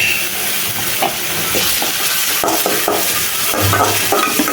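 Onions sizzle steadily in hot oil with ginger-garlic paste and curry leaves in a pan while a utensil scrapes and stirs in irregular strokes.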